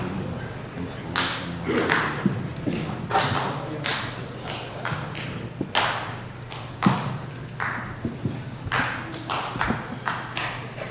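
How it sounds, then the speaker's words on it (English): Members of the Grand Lodge of Indiana perform the region clap, a Masonic group clap at an officers' installation. It comes as bursts of sharp, hollow claps, some in unison, set in a loose rhythm across a room with murmured voices underneath. "What you're now hearing is affectionately referred to as the region clap"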